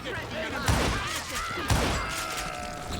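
Rifle shots in the Western shooter game Call of Juarez: Gunslinger, two sharp reports about a second apart over game ambience and music.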